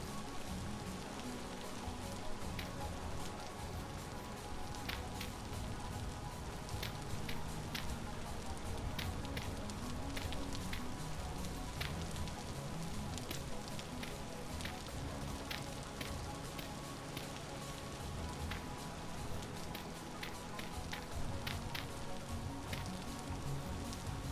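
Steady rain falls in the Vintage Story survival game, a dense continuous patter with scattered sharper drips on surfaces, even and unbroken throughout.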